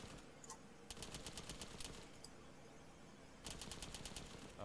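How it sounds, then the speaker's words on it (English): Gunfire in the military video game Arma 3: two sharp bursts of rapid automatic shots, the first about two and a half seconds long, the second shorter near the end, crackling over steady ambient background noise. "Whoa, shots."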